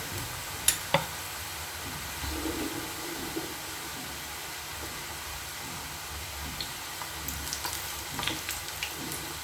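Moong dal pitha deep frying in hot oil, a steady soft sizzle throughout with a couple of sharp pops near the start and faint crackles later.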